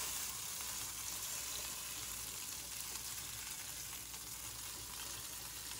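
Linguiça sausage sizzles steadily in a Neoflam pan, a dense, even frying hiss that stays constant and close throughout, with no talking.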